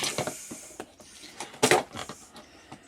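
A fitting on a Worcester boiler's three-port diverter valve being undone, giving close, faint mechanical clicks and ratcheting creaks in short bursts with one louder grinding turn.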